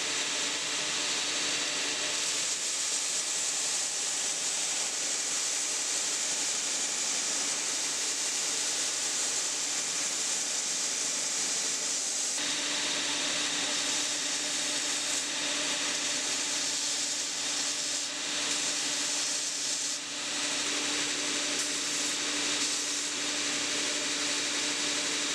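A 40 grit Hermes Abrasives sanding belt grinds steadily against a knife handle, a loud, continuous rushing whir with slight shifts in pitch as the handle is pressed and moved.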